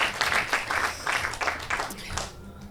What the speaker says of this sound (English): Let's give Dr. Luke a round of applause, please